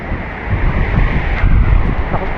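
Loud, roaring typhoon wind buffets the microphone in continuous heavy gusts with rain, a rumbling storm blast with no voices.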